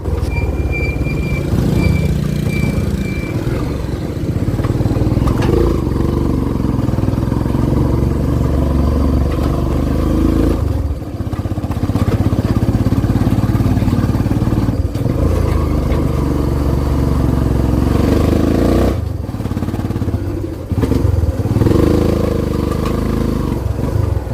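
A Kawasaki Barako 2 motorcycle with weak pulling power runs through a throttle test: a loud, continuous engine drone held near the microphone for over twenty seconds, with brief dips where the throttle eases before rising again.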